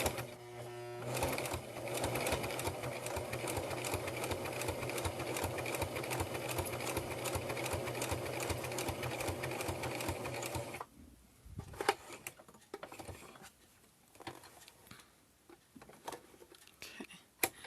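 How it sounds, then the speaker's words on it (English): A sewing machine back stitches and then runs forward while closing up a small fabric mini wallet. It gives a steady close whir for about ten seconds, then stops, followed by faint handling sounds. "And then I'm going to back stitch first. And then I'll go forward."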